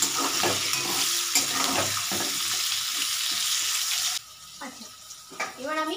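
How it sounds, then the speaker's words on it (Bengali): Tangra fish curry fries in a pan while being stirred, a loud continuous sizzle broken by scraping strokes of the spoon, then it drops to a quieter bubbling as a voice speaks near the end. "এবারে তুমি নাড়তে থাকবে।"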